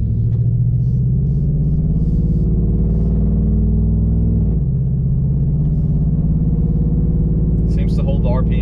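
A Chevrolet Silverado pickup with the 5.3 engine, freshly tuned, pulls through a normal acceleration. A loud, close engine drone with a strong harmonic tone holds steady, then shifts midway, and a voice speaks briefly over it.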